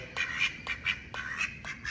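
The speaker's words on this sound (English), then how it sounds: "look who's made his appearance this morning, the supervising shop duck" A duck in a car workshop quacks in a quick series of four or five nasal calls, close and fairly loud over a low steady background hum.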